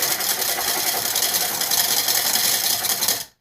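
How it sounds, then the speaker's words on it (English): Hemp milk is whisked in a small cup until frothy, a continuous, close, bright rapid whirring with fizzy rattling texture that holds steady before stopping abruptly at the end. "whisk it till it's sort of frothy"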